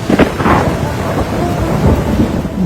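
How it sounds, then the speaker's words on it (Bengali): Loud thunder rumbles low and heavy over steady rain during a nor'wester storm, a deep rolling storm close overhead with no voices. "মনু, কাল বৈশাখী ঝড় উঠেছে"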